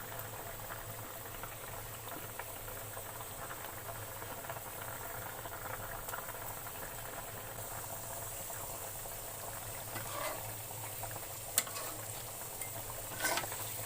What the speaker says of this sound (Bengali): আমার তরকারিতে সুন্দর বলক এসে গেছে, এখন আমি ভেজে রাখা মাছগুলা দিয়ে দিব।